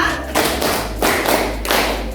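A school class claps in unison to a counting routine, producing several loud, evenly spaced bursts of hand clapping in a steady rhythm with a low thumping underneath.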